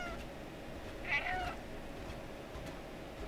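A cat meows once in the video game Stray, a short clear mew over steady low game ambience, with no talking.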